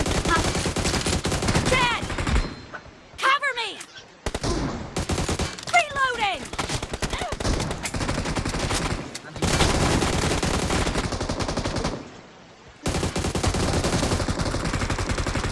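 Rapid bursts of automatic gunfire from the BGMI battle royale game, loud and close, come in repeated volleys with brief pauses between them.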